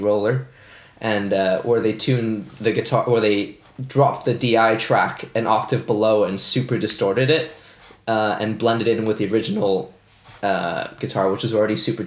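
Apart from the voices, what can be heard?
No everyday noises stand out.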